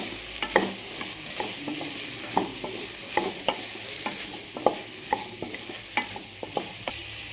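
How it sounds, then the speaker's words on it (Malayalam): Sambar powder being stirred into Tamil Nadu-style koottanchoru in a pan, a soft continuous sizzle under repeated sharp clinks and scrapes of a spoon, close and steady with no talk. "ഒരു ചെറിയ ഒരു സ്പൂൺ സാമ്പാർ പൊടി ഇട്ട് കൊടുക്കുന്നുണ്ട് അത് ചേർത്ത് നന്നായി ഇളക്കി യോജിപ്പിക്കുക"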